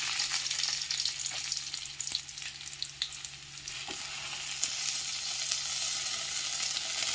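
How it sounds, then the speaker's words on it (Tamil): Thuthuvalai leaves frying in a pan with tamarind and chillies, a steady close sizzle with faint stirring scrapes that runs the whole time without any voice. "இப்போ நம்ம தூதுவளை இலையை போட்டுக்கலாம்."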